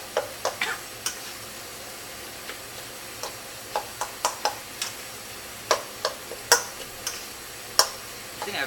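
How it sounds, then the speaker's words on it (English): A ladle scraping and chopping caramelized vegetables in a pan, sharp irregular taps and clicks at a moderate distance over a faint background hiss. "So using a ladle, try to mince it."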